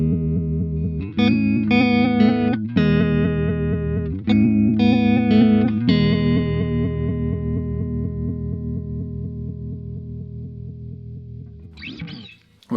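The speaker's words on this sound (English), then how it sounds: "and over on the tremolo setting, the Goodvibes sounds like this." Electric guitar through an EHX Good Vibes pedal on its tremolo setting plays chords that pulse in an uneven, choppy, stop-start rhythm, then ring out and fade, with a brief scrape of strings at the end.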